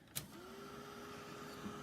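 Heat tool drying paint on a spring-themed painting, a continuous steady blowing hum from start to finish, fairly faint, with a faint click near the start.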